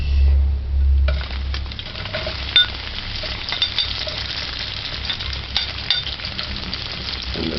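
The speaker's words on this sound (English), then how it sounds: "just allow it to saute for about 1 minute and 30 seconds or so" Onions sautéing in a pan on a stove set to medium high: a soft, steady sizzle runs throughout, with occasional light clinks and stirring scrapes of a utensil against the pan.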